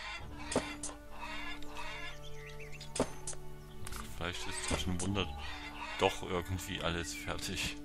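Chickens cluck and cackle in the farming video game Lumberjack's Dynasty, with a rooster-like call and bursts of clucking over soft background game sounds while someone talks intermittently.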